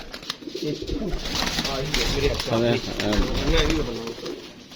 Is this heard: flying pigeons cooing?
yes